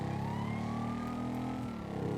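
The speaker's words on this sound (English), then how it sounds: "I turned off the siren." A police car siren in GTA V wails continuously, a loud sweeping electronic tone that holds steady and then shifts pitch near the end, with no speech.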